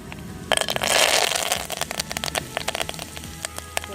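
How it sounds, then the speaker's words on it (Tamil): Mustard seeds spluttering in hot oil in a pan for tomato chutney, a dense burst of crackling and popping that settles into scattered sharp pops, close and loud. "பொரிய ஆரம்பிச்சிச்சு."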